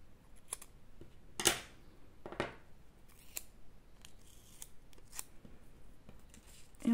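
A few sharp snips of scissors cutting paper, separated by pauses, with quiet rustling and handling noises between the cuts.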